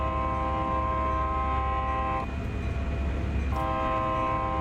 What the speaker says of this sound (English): Sound the horns passing through.